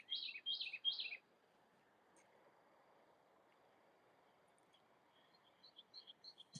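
Small birds chirp in a garden, with a quick run of bright, close calls at first. After a long near-silent stretch, faint, scattered tweets return.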